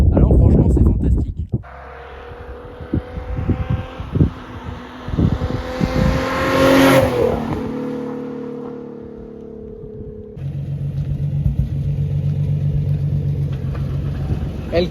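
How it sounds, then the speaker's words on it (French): A car passing on a windy roadside, rising into a loud close rush with a swelling whoosh midway and then fading, with strong wind buffeting and people talking at both ends. "On attend qu'il y ait la voiture qui arrive pour pouvoir filmer."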